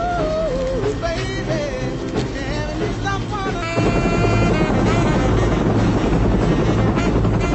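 Helicopter flying overhead in an action film, a steady rotor and engine drone under a dense music score that grows louder and fuller partway through.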